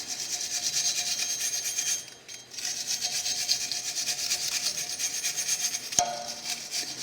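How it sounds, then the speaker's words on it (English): Wire brush scrubbing the inside and face of a rear brake hub during a brake rotor and pad change: a steady, close, rasping scrub that pauses briefly near the start, then carries on alone. "grab a wire brush, and we're just going to give this a good wipe around, especially around the inside, just around the inside of the hub circle there"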